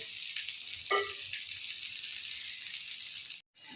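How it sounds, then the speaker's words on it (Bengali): A little water poured into spices already fried down in a pan for a vegetarian dish of pumpkin leaves and chana dal, bringing a steady close sizzle with a brief bubbling burst near the start and a sudden cut-off near the end. "মশলাগুলো কষানো হয়ে গেছে এবার আমি এর মধ্যে দিয়ে দেব অল্প একটু জল"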